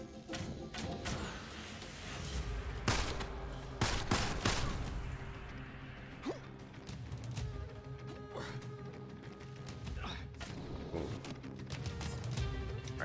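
Pistol gunfire in Immortal Redneck: a series of sharp, irregularly spaced shots with crashing impacts over a busy game backdrop, fairly close and punchy, no one speaking.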